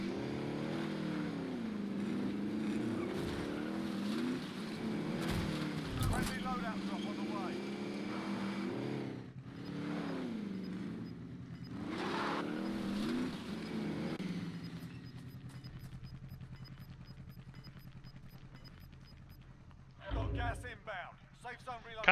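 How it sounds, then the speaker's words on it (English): A vehicle engine in Call of Duty Warzone drones steadily and loudly, rising and falling with revs over most of the stretch before dropping away near the end, mixed with other game sounds. "Kind of wish there was a way you could shut the engine off that thing, because it makes it kind of hard to hear anything around me."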